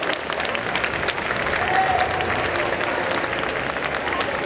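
Audience applause at a hypnosis show at a convention, dense sustained clapping from a crowd that holds steady throughout.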